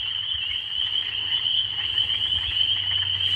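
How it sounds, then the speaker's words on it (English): Small frogs croak loudly outdoors in a continuous, dense high-pitched chorus with a low rumble beneath, steady and close throughout. "They're frogs, little frogs. I haven't really ever heard, I think this is the loudest I've ever heard them."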